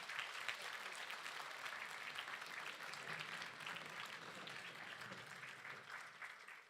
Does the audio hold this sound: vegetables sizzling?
no